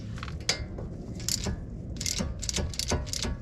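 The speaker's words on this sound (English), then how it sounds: "Now we can loosen and remove these two 12mm caliper slide pin bolts." Ratchet clicking on the 12mm caliper slide pin bolts of a 2011 Honda Civic front brake, a run of close, crisp metallic clicks in short bursts with small gaps, alone with no talk.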